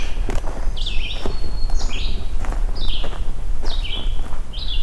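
A red-eyed vireo sings short, clear whistled phrases, about five of them, at an even, unhurried pace on an overcast morning. Soft footsteps crunch beneath the song.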